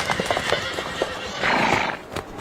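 Horses neigh and whinny with galloping hoofbeats in a period martial-arts film street scene, a loud whinny rising over rapid clip-clop of several horses close by, no talk over it.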